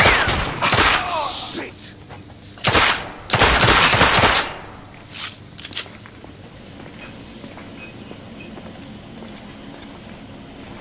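Gunfire in The Order: 1886 video game: several loud bursts of rapid shots and cracks at close range in the first half, then sparser distant shots. Someone shouts a curse among the firing.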